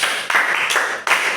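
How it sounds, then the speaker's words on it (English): A class of pupils claps for a classmate, a dense burst of brisk applause lasting just over a second. The clapping is loud and close and shows two quick swells. "Clap for him."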